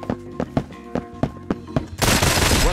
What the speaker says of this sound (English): Oh, I hear a gunshot.